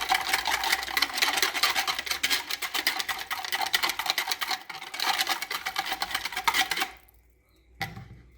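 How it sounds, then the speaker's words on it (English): Yeast mixture being stirred by hand for homemade donut dough, a steady rhythmic scraping and rubbing of a utensil against a bowl, close and fairly loud for about seven seconds before stopping, with no talking. "We're going to give this a good stir."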